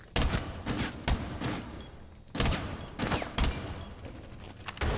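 Gunfire in the shooter game Rainbow Six Siege, with repeated loud bursts of rapid automatic shots separated by short pauses and no talking.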